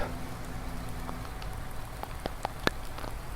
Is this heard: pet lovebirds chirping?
no